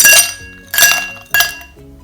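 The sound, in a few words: ice cubes dropped into a glass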